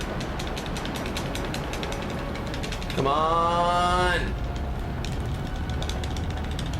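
In the video game Twilight Princess, continuous mechanical rattling with a brief creaking, grinding surge of a moving mechanism midway, and a short shout over it.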